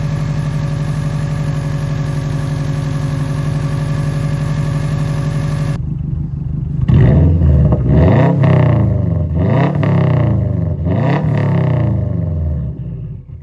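A Subaru WRX with a swapped EJ20X engine, first a steady close idle hum, then several loud rising revs that sweep up and fall back in repeated surges, with no talking.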